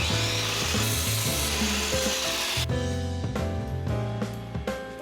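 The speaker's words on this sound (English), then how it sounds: "And cutting them down to size in the same kind of 5-degree taper." Old oak desk legs being cut down to size with a 5-degree taper, a loud continuous rasping saw cut that shifts into a series of rhythmic stroking rubs, close by with no talk.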